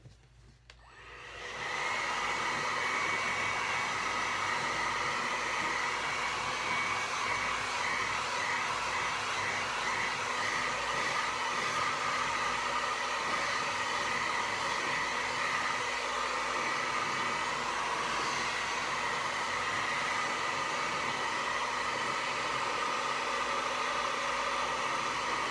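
A hair dryer blowing on wet acrylic paint on a tropical fish painting, switched on after a brief pause and then running as a steady, close, loud whooshing hum that stays unchanged for over twenty seconds.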